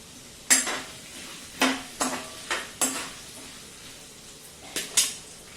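Cashew pieces tumble into a frying pan for chivda, followed by a series of sharp metallic clinks and scrapes of a spoon against the pan, spaced irregularly over a quiet background.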